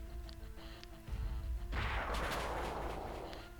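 A Pokemon Reborn Flash Cannon attack effect: a low rumble builds, then a loud explosive blast bursts out and slowly decays, heavy and booming.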